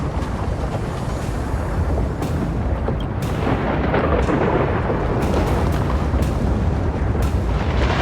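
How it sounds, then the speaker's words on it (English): Lightning and thunder in the video game Honkai: Star Rail bring a deep, continuous rumble with booming rolls and sharp cracks recurring throughout, loud and with no speech. "Lightning and thunder."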